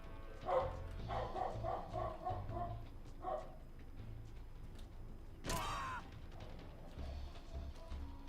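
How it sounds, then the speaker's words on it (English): A dog barks in short, yappy bursts in the background, with a clustered series of yips early on and one sharper outburst later, over a low background hum. "Sorry about the dog."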